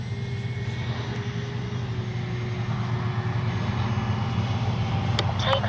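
A Kavan Bristell B23 RC airplane flies around during a go-around, its steady engine drone holding at a constant, fairly loud level throughout with no talk.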